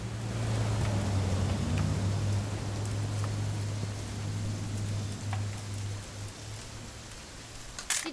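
Steady rain in the video game What Remains of Edith Finch, a soft, even hiss of falling drops that continues throughout with a low hum underneath and no voices.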